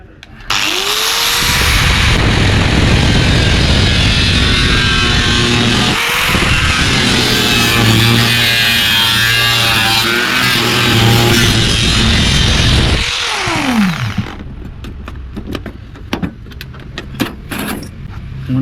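A small-bladed power cutter slices through a motorcycle mudguard for a KTM Duke 200, whining loudly in a sustained grinding cut with rising and falling pitch at start and end, followed by scattered clinks and handling noises.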